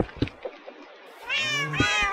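Cats meow in a video game, several drawn-out, fairly loud meows following a few brief scattered clicks, with no talk.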